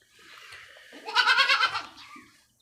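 Beetal goats on a farm bleat in a single drawn-out, wavering call that swells in the middle and fades, heard close and clear over a quiet background.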